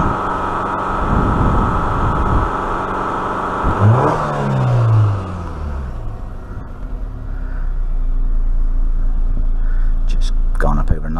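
Alfa Romeo GTV 2.0 TS engine held at a steady rev just below 3,000 RPM during an overheating repair, a loud continuous drone throughout with a brief pitch sweep midway, while a person talks over it.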